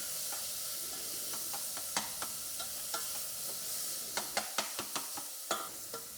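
Garlic and onions sizzling in a pan for a spicy carrot salad with harissa, a soft steady hiss punctuated by spoon stirs and clicks, close, with no talking.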